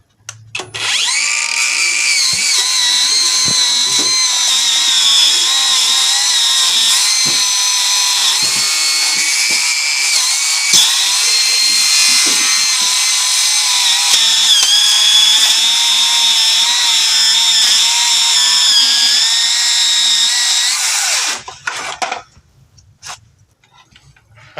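A Bauer brushless power tool fitted with a Crescent nail slicer blade cuts through nails and lag bolts, a loud, continuous, high-pitched metal-cutting whine that holds steady for about twenty seconds, then stops abruptly.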